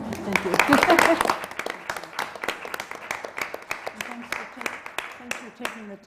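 A small audience claps at a board meeting, a brief burst of applause that quickly thins to a few scattered, fading hand claps near the microphone.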